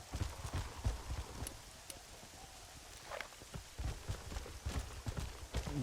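Repeated hoof clip-clops on a hard surface in Red Dead Redemption with a short whinny partway through, set against a steady ambient background.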